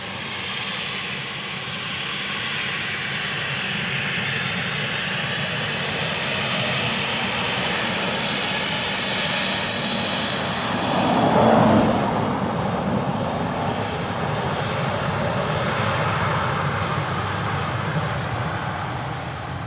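A jet airliner lands on a runway at Dublin Airport, its engines giving a loud, steady roar throughout with a brief swell near the middle, heard from fairly close and outdoors.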